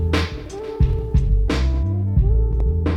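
A drum beat playing through the analog filters of a Tascam S2400, with the filters switched on and off. Steady loud kicks and snares repeat in a looping rhythm, and the tone shifts as the filtering comes and goes.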